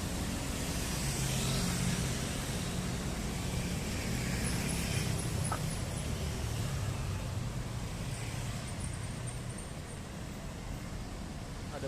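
Night road traffic near Gelora Bung Karno in Jakarta, with a bus among the vehicles: a steady, fairly faint drone of engines and tyres, slowly easing off, with low rumbling and brief higher whines.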